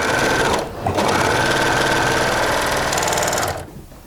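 Industrial sewing machines whirring in a community sewing workshop in Paris, loud and close, with a steady high-speed stitching rattle that briefly stops and restarts before trailing off.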